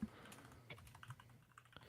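Computer keyboard typing, a quick run of light clicking keystrokes heard close up with faint room noise and no talking.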